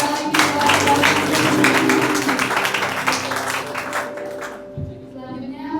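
A church congregation claps through a worship anniversary service in Sewan, Neglasari, Tangerang. The dense clapping runs steadily for several seconds over sustained keyboard-like tones and thins out near the end.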